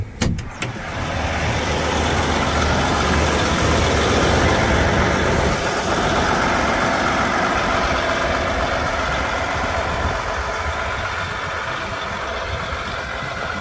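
A John Deere 560RT tracked vehicle sits in park with its engine idling. The low, even rumble stays close and constant throughout after a brief clatter at the start, with no speech.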